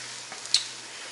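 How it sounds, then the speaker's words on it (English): Cheese frying in a pan on a fried egg sandwich makes a faint, steady sizzle. A few quiet ticks break it up, with one brief sharper click near the middle and no voices. "you'll notice now when the cheese is starting to fry up that it doesn't move around, it just sticks to the sandwich"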